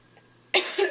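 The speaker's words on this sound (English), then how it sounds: "So sorry for all the coughing." One sudden, sharp cough bursts out close by after a near-silent moment, followed by a second smaller cough.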